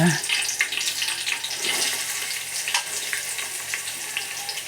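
Chopped onions fry in a pan of oil with mustard seeds, cumin and curry leaves. The sizzle is a steady, crackling hiss with faint stirring, heard close up for the whole stretch.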